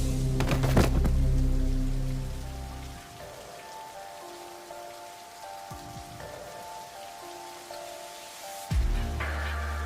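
Steady rain falls and patters on surfaces, with low tonal hums and a few dull thuds mixed underneath.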